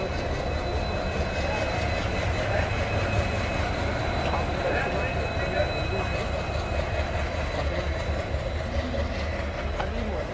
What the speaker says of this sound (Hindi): सुबह 7:30 बजे हमारी ट्रेन का डिपार्चर होता है बाड़मेर से